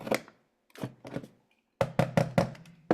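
A Creative Memories cartridge punch knocks crab shapes out of paper, giving sharp close thunks in two bursts, a few spaced strikes followed by a quicker run of four or five.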